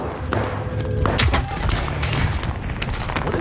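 Gunfire in a video game with heavy thumps and booms bursting out, several loud shots around the middle, over a dense, busy background of game sound.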